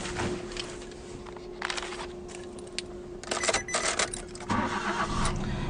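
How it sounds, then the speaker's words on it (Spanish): A Renault Scala with automatic transmission starting up, a cranking burst followed by the engine catching and settling into a low steady idle with some clicks, no talk. "El vehículo enciende correctamente"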